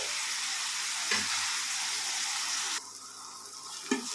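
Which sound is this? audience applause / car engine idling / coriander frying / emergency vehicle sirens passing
coriander frying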